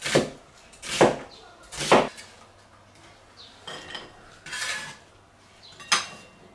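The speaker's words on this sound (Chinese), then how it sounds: "洋葱还是给它切成片儿" Knife slicing half an onion into pieces on a cutting board, with about seven sharp cuts spaced irregularly and heard close, the first three the loudest and the later ones softer.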